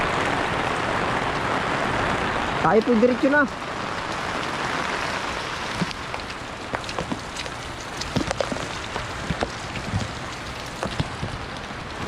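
Heavy rain pours down steadily, a dense hiss of drops on surfaces filling the whole stretch, while a voice speaks briefly over it early on and scattered louder drips or knocks punctuate the downpour.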